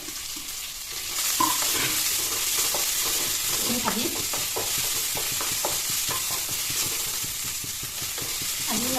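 Panch phoron spices and onion-ginger-garlic paste fry in hot oil for a fish curry with dahi, with a steady close sizzle and occasional stirring scrapes throughout.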